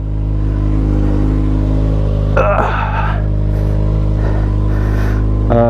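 A 2021 Kawasaki Ninja ZX6R with an M4 Street Slayer slip-on exhaust idles steadily close by, then rises into a sharp rev burst partway through, with a smaller throttle blip and another rise near the end.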